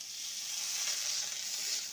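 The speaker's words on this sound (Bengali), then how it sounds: "কড়াইতে দিয়ে দিলাম ঘি, আর এখানে কাজু বাদাম আর কাঠবাদাম নিয়েছি, ভেজে নেব।" Cashews and almonds fry in ghee in a wok, giving a steady, close hiss of sizzling that stays even throughout with no voices.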